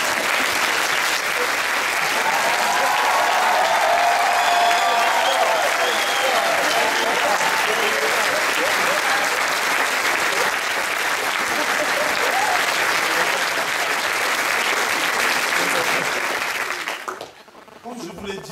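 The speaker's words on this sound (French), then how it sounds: "Je ne tarde pas, commencez à applaudir." An audience at a mock presidential-style campaign meeting applauds, a dense, steady clapping that holds loud for about seventeen seconds before abruptly dying out.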